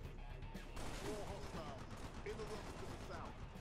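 Gunfire crackles in bursts during a fight in the video game Halo Reach, with a steady rumble of battle noise underneath while someone talks over it.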